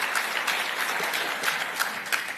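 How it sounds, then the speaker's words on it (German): Audience applause for the speakers at a lecture, a dense wash of many hands clapping that stays steady and fairly loud throughout, with no one talking over it. "Einfach nur einen Applaus für die Referenten, bitteschön."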